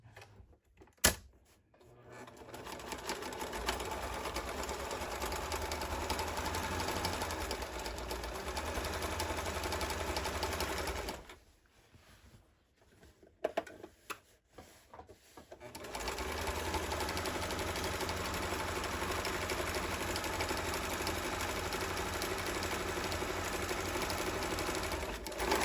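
A sewing machine runs long continuous passes stitching a seam on a garden pouf, with a short quiet break and some handling clicks before the motor resumes at a steady, close hum.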